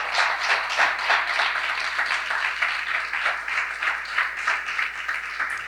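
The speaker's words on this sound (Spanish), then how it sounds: "Si tú lo crees, dale un aplauso al Señor." A church congregation claps for the Lord in a sustained round of applause, with rhythmic pulses suggesting some people clapping in time, steady and fairly close throughout.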